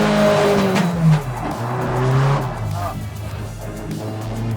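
A car slides in a handbrake drift, its engine droning and its tires squealing in rising and falling tones, heard from inside the cabin with people talking over it.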